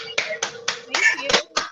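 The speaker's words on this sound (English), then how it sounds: "I think we can all take our sound off and do a round of applause" A few people clap separately over an online call, a sparse run of six or seven distinct claps at uneven intervals, close and fairly loud, with a voice briefly mixed in.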